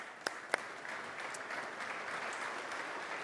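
Audience applause for a track announcer at the King's Plate post position draw, a steady wash of many hands clapping indoors, moderately loud, with a couple of sharper claps near the start and no talking over it.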